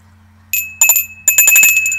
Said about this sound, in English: Nice, transferware bell.